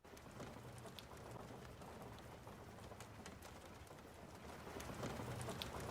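Rain falls in a steady, faint hiss with scattered small drop ticks, swelling a little toward the end, with no voices.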